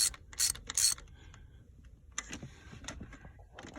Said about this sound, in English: I'm tightening them in like a crisscross pattern so it goes down evenly